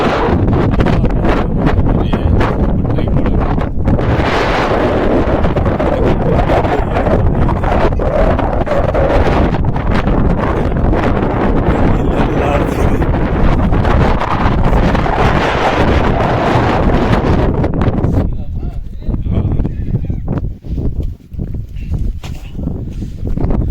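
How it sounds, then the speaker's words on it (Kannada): Strong wind buffets the microphone on a mountain trek at Skandagiri, loud roaring gusts that ease off toward the end. "ಗಾಳಿಯನ್ನು ಬೀಸ್ತಾ ಇದೆ"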